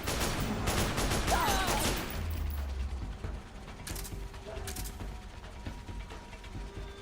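Gunfire in Metal Gear Solid 4: a dense rattling burst of shots at the start gives way to a few sharp, isolated reports with mechanical clatter between them.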